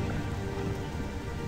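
Rain pours in the fantasy role-playing game Gothic 2, a dense, even wash of falling drops heard alone at a steady moderate level with no talk.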